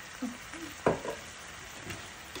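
Soy sauce goes into a hot frying pan, giving a quiet hiss with a few brief bursts and scrapes of stirring scattered over a couple of seconds.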